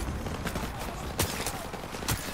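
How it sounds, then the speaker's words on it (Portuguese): Rapid bursts of gunfire crackle over dense background noise in Call of Duty: Modern Warfare Remastered, with a couple of louder, sharper shots standing out amid the continuous barrage. "Ok, tô recebendo tiros."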